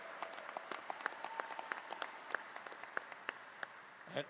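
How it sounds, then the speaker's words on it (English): Sparse, faint applause from the audience at a 2024 high school commencement ceremony honoring the graduating class: scattered individual claps, some sharp and distinct, heard alone without speech. "How about another round of applause for our graduating class?"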